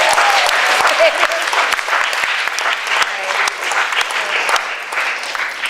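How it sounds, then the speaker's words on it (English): Audience applause at a school Shakespeare speaking competition, a dense, steady wash of clapping from a full hall that carries loudly through the whole stretch with no talk over it. "can we just have a round of applause for everyone?"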